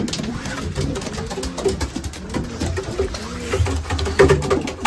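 Several racing pigeons coo close by in a loft, soft overlapping throaty calls repeating irregularly against a low background murmur.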